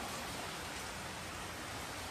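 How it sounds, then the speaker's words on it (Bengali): Steady monsoon rain falls during the Shravan season, a soft, even hiss that stays unbroken and fairly faint throughout, with no voices. "বৃষ্টিটা দেখতে ভালোই লাগছে বলুন।"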